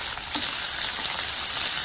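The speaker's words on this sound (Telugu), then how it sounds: "ఉల్లిపాయలు, పచ్చిమిర్చి, అలాగే వెల్లుల్లి ఇవి కూడా వేసుకొని లైట్ గా వేయించుకోవాలి." Chana dal, onions, green chillies and garlic sizzle steadily in hot oil, a close, continuous frying hiss with no talking.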